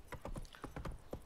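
Roach the horse trots in The Witcher 3 video game, with quick, rhythmic hoof clip-clops at a fairly close distance over a short stretch of ground.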